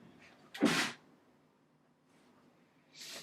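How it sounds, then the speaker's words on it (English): One sharp, close sneeze bursts out, followed after a pause by a fainter breathy exhale. "I have to sneeze, so hold on."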